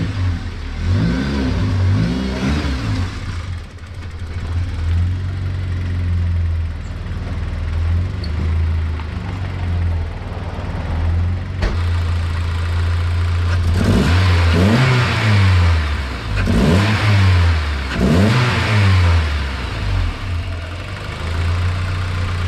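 A turbocharged car engine fitted with a turbo blanket runs close to operating temperature, mostly a steady, loud idle broken by several sharp revs that swell and fall back. No talking.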